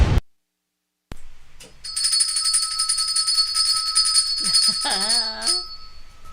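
A bright electronic bell rings continuously for several seconds on a live radio show after a brief silence, with a voice briefly sounding underneath near the end.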